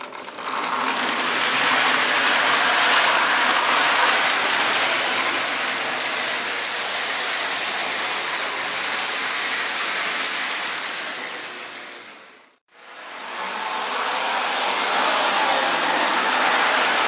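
A Lionel 218 Santa Fe ALCO FA model locomotive pulls a train with a steady, close whirring and clattering rumble, briefly cutting out near the end before resuming.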